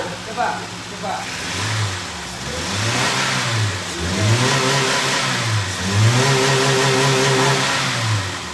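A car engine with a fault that leaves it sluggish and lacking power is revved repeatedly, each throttle blip rising and falling in a strained, labored surge over a steady idle.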